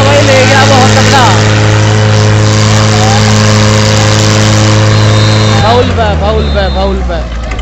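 Mahindra 575 DI XP Plus and Swaraj tractor engines roar at a tractor pulling match, a loud, steady, droning labour under heavy load with rising revs near the end, and crowd and commentator voices mixed in.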